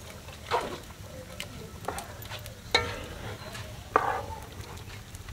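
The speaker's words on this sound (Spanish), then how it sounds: "ahora vamos a agregar lo que es la salsa, que son los chiles, ajo y cebolla" Chili, garlic and onion salsa pours into a pot of red pozole with corn, giving soft splashes and stirring clatters in a few separate bursts over a quiet simmer.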